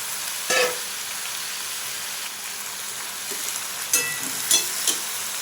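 Fresh Malabar spinach leaves sizzle quietly in a pan, a soft steady frying hiss broken by a few brief clinks and scrapes of stirring, close and without talk.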